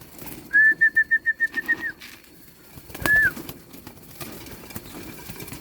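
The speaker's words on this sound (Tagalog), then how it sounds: "Ayan, mga gutom na gutom mga kalapatids." Hungry pigeons call close by in a quick run of about eight bright, pulsing coos, then fall quiet apart from one short coo and a few faint rustles.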